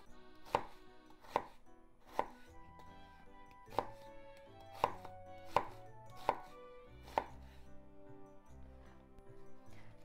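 A knife slicing food on a cutting board, eight sharp, fairly evenly spaced chops with a ringing knock on each stroke, close and clear over a quiet background with no talking.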